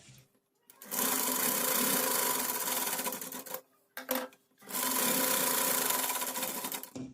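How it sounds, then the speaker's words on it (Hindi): A sewing machine stitches the shoulder seams of a Pathani suit, two close, steady rattling bursts of stitching separated by a brief pause and a short stop-start, with no talking. "दोनों शोल्डर पे सिलाई लगा ली है।"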